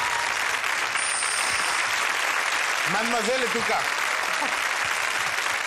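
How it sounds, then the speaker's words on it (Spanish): Studio audience applause on a Saturday TV game show after a family wins a car in a cornstarch contest, a steady roar of clapping throughout while a voice speaks briefly over it. "un gran aplauso a los Francisco"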